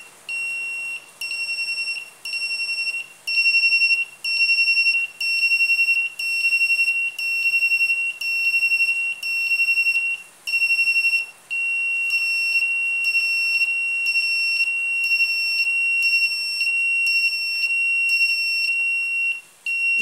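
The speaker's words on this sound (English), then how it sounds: "this one is an automatic buzzer because of the 555 timer that serves as a clock, making an automatic buzzer circuit" Automatic buzzer clocked by a 555 timer circuit gives repeated shrill electronic beeps, regular at first and then faster and more tightly spaced, loud and close with no voices.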